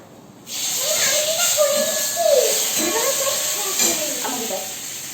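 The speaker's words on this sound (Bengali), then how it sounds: "জিরা ফোড়ন দিয়েছি এবার তেজপাতাটা দিয়ে দেবো" Cumin seeds and a bay leaf sizzling in hot oil in a home kitchen, a loud steady hiss that sets in abruptly and carries on as people talk over it.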